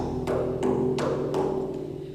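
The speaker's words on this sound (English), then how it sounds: "or a higher sound like this." Four quick strikes on a frame drum give a brighter, higher tone with short sharp attacks over a faint lingering resonance.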